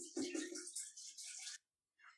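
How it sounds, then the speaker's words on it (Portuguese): Water pours from a tap into a pot before boiling, a close splashing rush that runs steadily for about a second and a half. It then stops, and a brief splash follows. "Coloque 1 litro de água para ferver."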